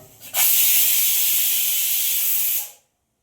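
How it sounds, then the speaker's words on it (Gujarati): Loud burst of hiss as a pea and potato curry is tempered, one steady sizzle starting abruptly, holding for about two seconds and then cutting off. "બરોબર શાક વઘાર દીધું છે"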